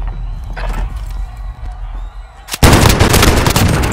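Hostile gunfire in Call of Duty Modern Warfare, starting as distant muffled shots and rumble, then jumping to a dense, loud barrage of rapid firing that carries on to the end.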